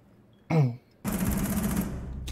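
Burst of rapid gunfire in Rainbow Six Siege during a defensive round, a brief sharp report followed by a sustained, loud stream of shots lasting about a second, close and dense.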